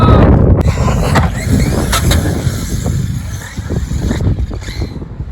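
A Team Corally Kronos XTR radio-controlled truck drives off loudly and steadily for about five seconds, its motor and tires making a continuous rushing roar with rattling impacts and no talk.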